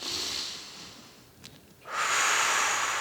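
Deep, audible breathing during a stretching session: a long, close inhalation, a short quiet pause with a small sniff, then a strong, airy breath rushing in again.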